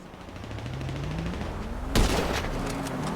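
Weapon fire in GTA 5 on PC with unlimited ammo, a sudden burst of loud overlapping shots over a continuous drone of game background noise.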